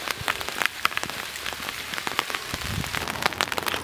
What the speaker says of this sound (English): now it started to rain